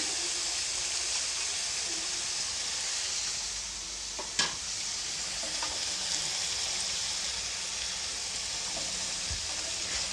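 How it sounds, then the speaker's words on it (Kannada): Avarekalu upma mixture with grated coconut and tomato frying and being stirred in a pan: a steady close sizzle with scraping stir noises and one sharp clink near the middle, no talk. "ಇವಾಗ ಚೆನ್ನಾಗಿ ಮಿಕ್ಸ್ ಮಾಡ್ಕೊಳ್ತೀನಿ ನಮಗೆ ಟೊಮೊಟೊ ಸ್ವಲ್ಪ ಸಾಫ್ಟ್ ಆಗಬೇಕು ಅಲ್ಲಿವರೆಗೂ ಅಂದರೆ ನಾನು ಇದನ್ನು ಒಂದು ಎರಡು ನಿಮಿಷ ಈ ಥರ ಫ್ರೈ ಮಾಡ್ಕೊಳ್ತೀನಿ"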